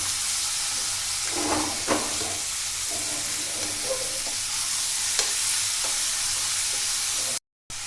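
Broad beans stirred in a hot frying pan for a curry, giving a steady close sizzle and hiss with several scraping stirs of a spoon against the pan.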